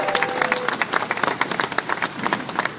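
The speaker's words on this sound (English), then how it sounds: "Let's give them a round of applause." Audience applause at the dedication of the new Kosciuszko Bridge, a steady patter of many hands clapping at moderate distance, sustained throughout without voices.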